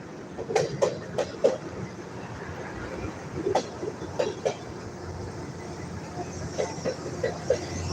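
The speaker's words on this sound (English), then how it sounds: "Well, there must be a long train. It had about 6 engines in the front and got 1 engine about in the middle pushing or pulling" A long freight train hauled by several locomotives rolls past, giving a steady rumble with repeated rhythmic clicks and clacks of wheels over rail joints at moderate distance.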